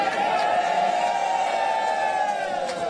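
A crowd at a political media gathering chants and cheers in unison, a dense continuous roar of many voices close by.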